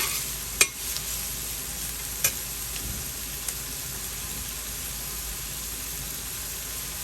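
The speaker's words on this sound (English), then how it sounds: "I'm like lightly sauteing these or flash frying them" Pigeon peas and rice ingredients sizzle steadily in a hot pan with a constant bright hiss, broken by a few sharp clicks of a utensil stirring.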